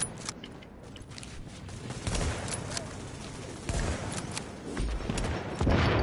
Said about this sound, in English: I'm gonna use my sniper rifle real quick